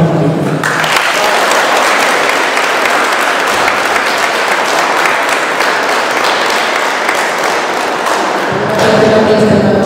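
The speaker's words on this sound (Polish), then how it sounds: "wielkie brawa do pana" Loud, sustained applause from the crowd at an indoor football tournament in a sports hall, steady dense clapping that fills the whole stretch with a few thuds mixed in.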